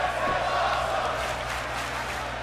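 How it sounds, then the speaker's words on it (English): A wrestling arena crowd roars and cheers in a steady, loud, dense wall of noise, with commentary running over it. "Listen to these fans."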